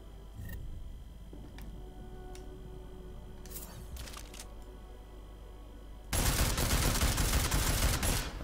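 Combat rifle in Deus Ex: Mankind Divided fired at training targets, a few sharp isolated shots early on, then a dense, loud burst of sustained gunfire in the final seconds.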